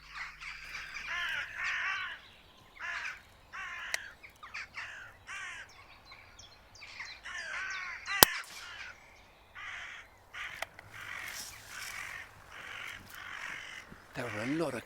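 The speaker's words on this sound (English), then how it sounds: "There were a lot of crows up the tree then." Several crows caw repeatedly in bursts from trees, some calls louder and nearer, with a few short gaps between.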